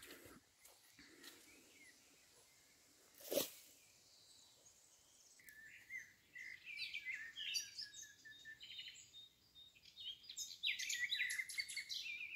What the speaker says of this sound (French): quand tu te balades, t'entends les oiseaux en puissance